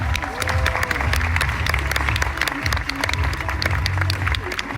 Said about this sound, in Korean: 김건영, 신영주 리더님을 큰 박수로 모시겠습니다